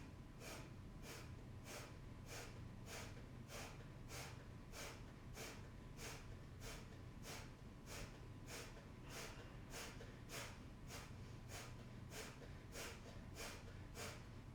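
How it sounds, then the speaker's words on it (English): Kapalabhati breathing in a yoga flow: quick, forceful nasal exhales pumped from the belly in a steady rhythm, roughly one or two per second, quiet and close, repeating without pause and with no talking. "Breathing in through your nose, and then exhale, really pumping out through your belly."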